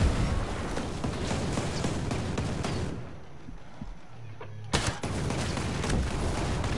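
Gunfire in the video game Ghost Recon Breakpoint: rapid bursts of shots crackle loudly, ease off into a quieter lull with a sharp single report, then resume in dense bursts.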